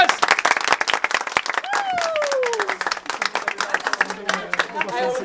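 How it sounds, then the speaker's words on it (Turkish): Applause and clapping from a small crowd at a traditional Turkish bakraç-pouring wedding custom, mixed with overlapping voices and a rising whistle-like tone, fairly close and lively. "Alkış alalım, alkış."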